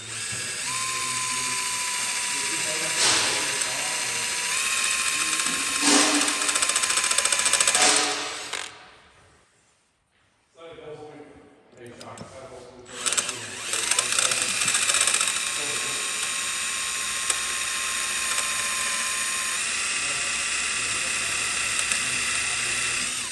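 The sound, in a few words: drilling out rivets with drill bit on truck cab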